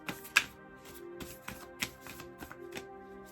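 Tarot cards shuffled by hand during a reading, a run of soft papery riffles and taps with a few sharper snaps, close and fairly quiet over a faint steady hum.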